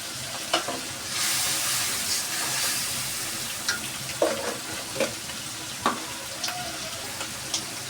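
Spice paste fries in a pan for a Bengali home-cooked meal, a steady sizzle broken by repeated scraping stirs and light clacks of the spoon against the pan, close and clear with no talking.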